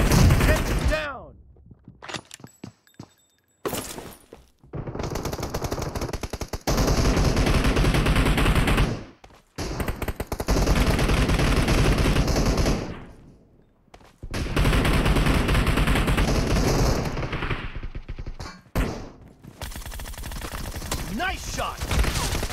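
Gunfire in a team deathmatch video game comes as dense, loud bursts of automatic fire and rapid shots separated by brief silent gaps, with game voice callouts mixed in.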